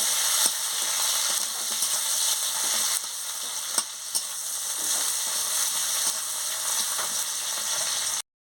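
Pieces of pointed gourd sizzle loudly in hot oil in a pan, with steady frying crackle and occasional clinks and scrapes of stirring.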